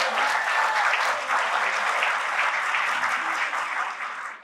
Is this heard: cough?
no